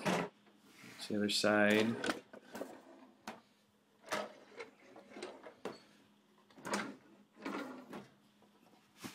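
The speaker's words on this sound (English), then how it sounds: "And here's the sink drawers." Sink drawers on a 1972 Rambler travel trailer slide open and shut with several short clatters and thumps, spaced between stretches of close speech.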